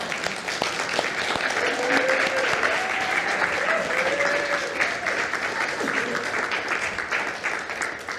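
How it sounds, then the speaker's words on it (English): An audience at a church retirement celebration gives sustained applause, a dense, even wash of many hands clapping that stays full and loud throughout. "that deserves an applause."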